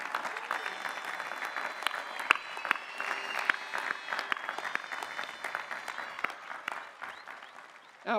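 A large crowd at a graduate commencement and doctoral hooding ceremony claps steadily for graduates and their supporters, a broad crackling wash of applause heard from a moderate distance, with scattered louder claps and a voice rising at the very end.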